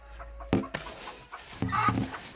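A black hen sitting on eggs clucks in short, throaty bursts, close by, with a few sharper notes among quieter farmyard background.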